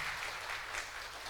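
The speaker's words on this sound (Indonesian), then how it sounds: "teristimewa, kita berikan aplaus" Crowd applause greets the governor at a formal GP Ansor gathering, a dense, steady clapping that fills the whole short moment without any voices over it.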